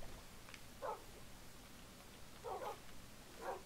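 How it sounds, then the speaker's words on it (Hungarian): Minecraft dogs (tamed wolves) give three short, fairly faint barks spaced irregularly apart, heard alone over a quiet background with no talk. "Kutyák."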